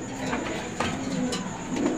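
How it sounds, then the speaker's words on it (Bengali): Soft, steady cooing from a pair of magpie pigeons with bright red feathering, among other fancy pigeons at a bird sale, a continuous low murmur running throughout at moderate distance. "দর্শক আপনারা দেখতে পাচ্ছেন এখানে চমৎকার এক জোড়া ম্যাকপাই কবুতর আছে"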